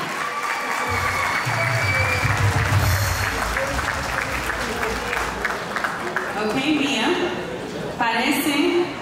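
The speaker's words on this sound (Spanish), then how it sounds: "un aplauso fuerte para Mía" Loud applause from the guests for Mía at her quinceañera party, a thick crowd clapping that runs throughout, mixed with voices and a low musical hum.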